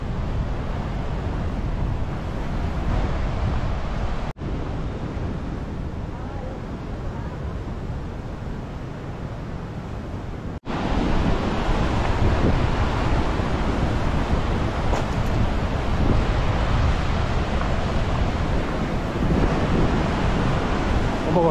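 Continuous roar of sea waves along the I-GI-DAE coastal walking path, a broad wash of surf mixed with wind buffeting the microphone, loud and steady, swelling louder partway through.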